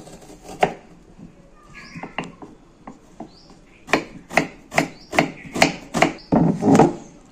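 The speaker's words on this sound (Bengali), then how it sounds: "পেঁয়াজটাকে কুচি কুচি করে নিলাম আগে ভালো করে।" A knife finely chops onion on a board, close sharp taps that start sparse and irregular, then settle into a quicker, even run of strikes.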